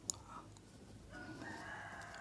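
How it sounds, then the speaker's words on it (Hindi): A rooster crows nearby next to a room where a maths lesson is being taught, a single drawn-out call in the middle of the clip, moderately faint against a steady low hum with no talking. "ये बगल में एक मुर्गा भौंक रहा होगा, उसमें कान मत देना।"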